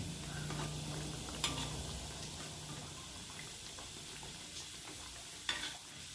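Pempek kulit fries in a pan with a continuous soft sizzle and bubbling and two brief sharp pops, fairly quiet and close, with no talking.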